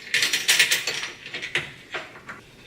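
Clamp being cranked tight onto a microphone mount at a gaming setup, a run of sharp ratcheting clicks and metallic ticks, close and fairly loud at first, then slowing to a few spaced clicks.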